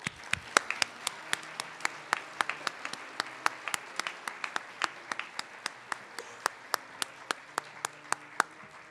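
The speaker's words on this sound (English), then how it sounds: "Can we please have a round of applause for all of their accomplishments?" Sparse applause at a high school National Honor Society ceremony, a small number of distinct hand claps spaced irregularly, fairly quiet and heard against a hushed room.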